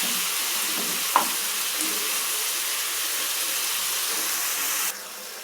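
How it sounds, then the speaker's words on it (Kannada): Spices with coriander and green chilli frying in a pan for a North Karnataka-style dish, a steady soft sizzle and hiss throughout with one brief clink of a utensil, cut off near the end. "ಇದು ಸ್ವಲ್ಪ ಫ್ರೈ ಆಗಬೇಕು."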